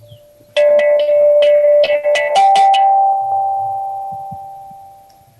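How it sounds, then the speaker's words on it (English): A bell struck repeatedly for a Buddhist refuge chant, a quick flurry of bright ringing strikes that settle into one sustained tone slowly fading out, close and loud with no voices. "I've got this cool bell, and I'm going to ring it a lot."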